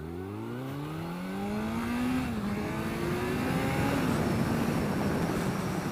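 A 2017 Kawasaki Z900 motorcycle accelerates from 0 to 100, its engine rising in pitch through several gear shifts, each climb dropping briefly before climbing again, with wind rush building.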